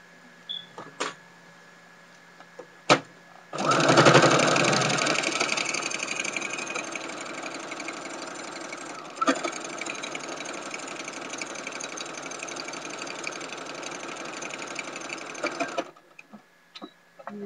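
A sewing machine stitching a tag blanket runs in one continuous, steady whirring stretch of about twelve seconds, close and clear, with a few light clicks before and after.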